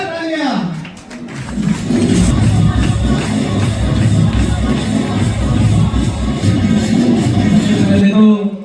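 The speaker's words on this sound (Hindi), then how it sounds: "ऐसे डॉक्टर अमन सिंह सर के लिए जोरदार तालियां।" An audience at a direct-selling company's birthday celebration bursts into loud applause and cheering, with a crowd roar building and holding after a brief opening tone.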